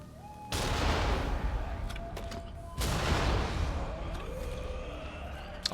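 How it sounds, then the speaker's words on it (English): Two heavy booming hand cannon blasts in the action game Nioh 2, each a loud sudden burst with a long rumbling decay, about two seconds apart over quiet game ambience. "Unfortunately, he's not dying from one hand cannon shot."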